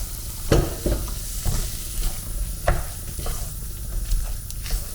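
Cooked ridge gourd stirred into sizzling tomato masala for a South Indian kootu, with a constant frying hiss and occasional scraping spoon strokes against the pan, close up with no talk.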